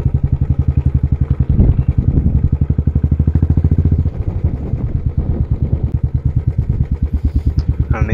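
A Royal Enfield Classic 350 chugs with a deep, rhythmic single-cylinder exhaust beat, loud and near, with a brief throttle blip partway through.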